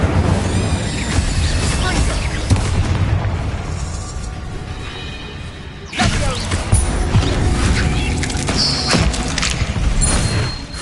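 Incendio fire spells cast in Hogwarts Legacy, loud roaring bursts and booming fiery blasts layered with chaotic combat noise, one sharp new burst partway through, and voices shouting among the effects.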